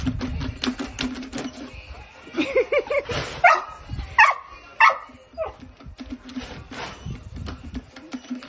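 A golden retriever puppy barks and yips in short bursts, with some whimpering and a few higher yelps in the middle, close by amid light background noise.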